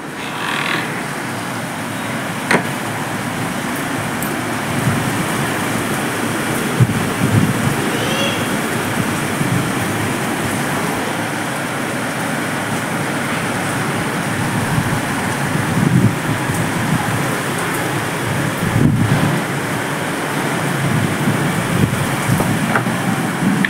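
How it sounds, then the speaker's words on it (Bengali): Heavy rain pours steadily outside during a thunderstorm, a dense continuous hiss with a few louder knocks scattered through it and no voices. "বাইরে প্রচুর বৃষ্টি হচ্ছে"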